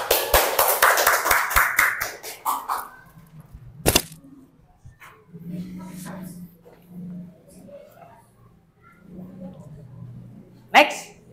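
Group hand clapping from a classroom of students, a quick burst of rhythmic claps at the start, then a sharp single clap and scattered voices and movement afterward.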